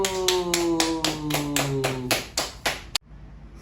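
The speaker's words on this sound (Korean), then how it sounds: "성공 박수." A group at a church summer camp claps together in a quick, evenly spaced rhythm of about ten sharp claps. The claps are loud and close and stop abruptly, with no talking.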